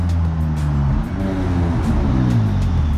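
A McLaren 570S tuned to 790 horsepower with an Armytrix exhaust roars loudly and close, its engine note rising and falling as it revs for the full length without any voices.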